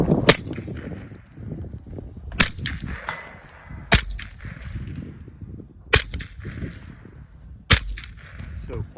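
Big-bore pistol gunshots at a heavy-division 2 gun match, five sharp loud reports spaced roughly one to two seconds apart, with faint talk and range noise between shots.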